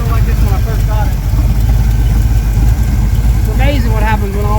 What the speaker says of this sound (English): she's idling beautiful